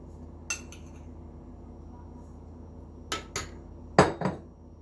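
A metal spoon stirs sugar into a pot of coffee syrup, giving a handful of sharp, separate clinks against the pot, spaced apart and close by over a quiet background.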